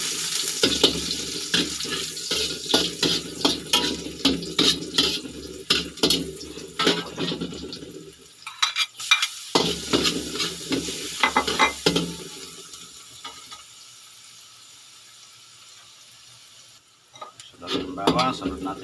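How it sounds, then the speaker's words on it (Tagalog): Ginger and garlic sauté in a pan for pork Bicol Express, a steady close sizzle with stirring scrapes and clinks that drops off midway, then quieter frying and a brief return of stirring, with no talk over it. "Igigisa na natin sa luya."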